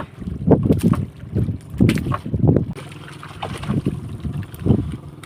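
A small fishing boat's engine, in good running order, drones steadily at sea with wind buffeting the microphone, louder surges coming and going.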